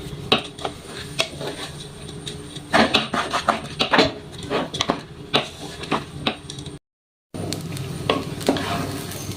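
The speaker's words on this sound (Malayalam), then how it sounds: "ശകല ഉപ്പ് കൂടി ചേർത്ത് അരി ഒന്ന് വറുത്തെടുക്കാം." Rice grains frying with a little salt in a pan while being stirred, with repeated scraping and clinking of a utensil against the metal over a steady sizzle, close by, with one brief gap of silence.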